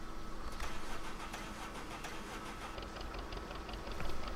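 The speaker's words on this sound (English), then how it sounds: "It's a little putt-putt engine, as Caravera would call it." A John Deere Lindner tractor in Farming Simulator 2013 cranks up and settles into a steady idle, its small engine putt-putting close and continuous with a slight rev near the end.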